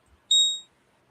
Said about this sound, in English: Oh, alarm went off.